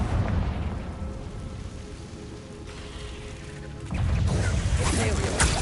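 A Confringo fire spell explodes in Hogwarts Legacy as a dense, rumbling blast with crackling debris, swelling louder near the end over continuous game noise.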